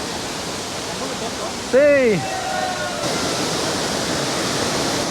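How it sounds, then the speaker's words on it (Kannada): Dudhsagar waterfall pours down hard enough to foam milky white, giving a steady, dense roar that fills the whole clip while a voice speaks briefly over it. "ಈ ಬೀಳ್ತಿರೋ ಫೋರ್ಸಿಗೆ ನೀರು ಹಾಲಿನ ಥರ ನೊರೆಯಲ್ಲಿ ಧುಮುಕ್ತಾ ಇದೆ"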